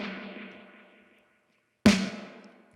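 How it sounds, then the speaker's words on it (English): A produced drum hit run through a 16th-note ping-pong delay and phaser: a decaying tail fades to silence, then one sharp, loud hit rings out with a smeared, swirling decay. "That's H delay on 16th ping pong notes"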